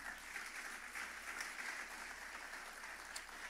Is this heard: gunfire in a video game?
no